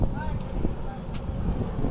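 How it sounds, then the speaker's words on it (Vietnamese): Strong wind buffets the microphone at an outdoor market stall selling old bonsai trees, a constant heavy low rumble with faint voices in the background. "Gió hôm nay to nhá."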